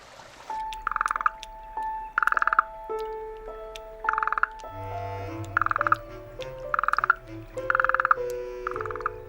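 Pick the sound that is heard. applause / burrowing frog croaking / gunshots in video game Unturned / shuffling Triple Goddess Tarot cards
burrowing frog croaking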